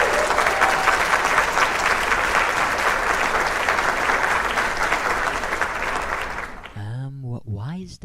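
Sustained crowd applause and clapping from a live concert audience, loud and dense for about seven seconds before cutting off into a brief vocal sound.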